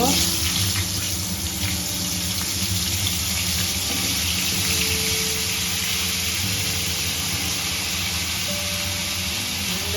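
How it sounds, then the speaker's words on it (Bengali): Long-cut potato strips fry in leftover oil in a wok after fish was fried, giving a steady, loud, unbroken sizzle that runs the whole time. "লম্বা লম্বা করে আলু কেটে নিয়েছি আলুটা ভেজে নেব"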